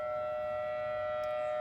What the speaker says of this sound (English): I don't know what siren is going on out here.